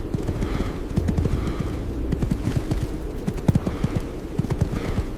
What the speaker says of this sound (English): One horse surges forward.